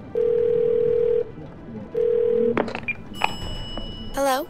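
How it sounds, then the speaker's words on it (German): Telephone dialing in the video game 12 Minutes: two long steady dial tones, then a quick sequence of dialing beeps and a warbling ring signal near the end, loud and close. "Jetzt rufe ich die trotzdem nochmal an."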